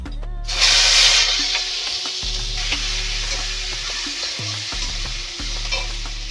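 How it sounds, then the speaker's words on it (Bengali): Chopped onions hit hot oil in a wok for Bengali egg and potato curry, bursting into a loud hiss that settles into a strong, steady sizzle with stirring clatter, close up and without voices. "কড়াতে আমি প্রথমে পেঁয়াজ কুচিগুলো দিয়ে দেব।"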